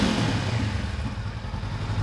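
Honda CB500X motorcycle engine held at full throttle, a steady loud low-pitched roar with rough mechanical rumble and no breaks, close to the bike.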